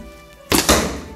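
Arrow loosed from a bow while the archer also holds a kalkan shield, heard as a single sharp thunk with a quick second impact, close and alone over faint background hum.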